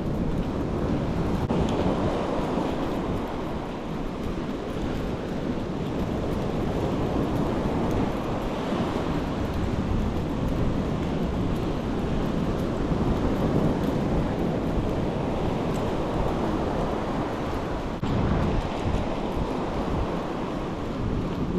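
Rough sea waves rolling onto a shore, a continuous loud roar of surf with wind buffeting the microphone throughout, no talking.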